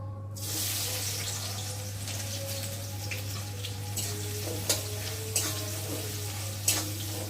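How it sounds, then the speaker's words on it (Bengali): Sliced onions hitting hot oil in a wok, producing a loud continuous hiss and sizzle from the start, with a few sharp clinks of a utensil against the pan and a steady low hum underneath. "আর এখন আমি পেঁয়াজগুলোকে দিয়ে প্রথমে ভালো করে ভেজে নেব"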